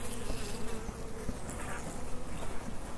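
Honey bees buzzing around a hive, a dense continuous drone of many wings close by, steady and fairly loud with slight swells.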